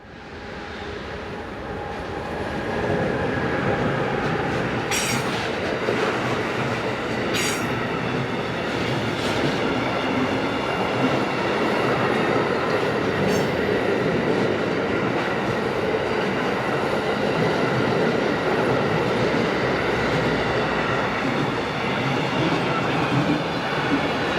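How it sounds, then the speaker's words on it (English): An Alpha Trains-owned Traxx F140 AC1 electric locomotive, number 185510, leased to Railtrax, rolls past with a steady, loud rumble of wheels and rail noise lasting throughout, with a few sharp metallic squeals and clicks along the way. "Our final view in this programme is of Trax F140 AC1 locomotive number 185510"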